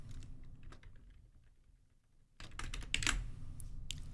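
Someone types a file name on a computer keyboard, first with scattered soft keystrokes and then with a faster, louder burst of clicks near the end, with no talk.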